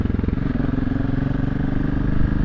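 Motorcycle engine running close by with a rough, lumpy, throbbing idle that holds steady and loud throughout, with no talking.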